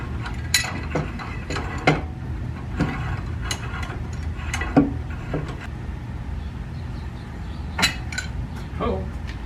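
Rear brake caliper bolts on a second-generation Chevrolet Equinox are worked loose with sharp metallic clicks and clanks, spaced irregularly and close up, with faint movement noise between them.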